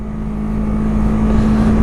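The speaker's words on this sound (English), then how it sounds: "It will rev up." A Yamaha R3 motorcycle engine revving freely, a loud steady low drone that swells slightly over the short span, with no speech.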